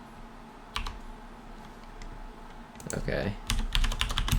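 A computer keyboard being typed on while entering an AdventureQuest Worlds chat command, starting with a few scattered clicks and then a quick burst of keystrokes near the end over faint game background, with a brief spoken word.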